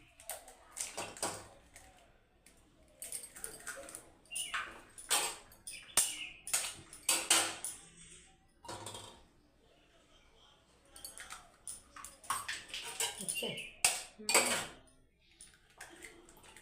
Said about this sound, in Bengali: তিনটে ডিম একটা জাগা বাটির মতো নিয়েছি এতে ফাটিয়ে নেবো তিনটে ডিম